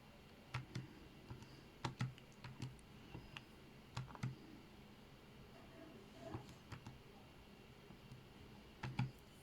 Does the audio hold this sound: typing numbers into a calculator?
yes